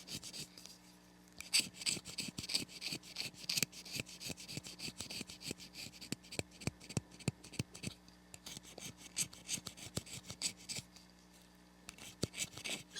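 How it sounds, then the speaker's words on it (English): An oboe reed takes long, smooth knife scrapes, a close, steady series of quiet rasping strokes repeating in a brisk rhythm. "These initial scrapes are meant to be long scrapes."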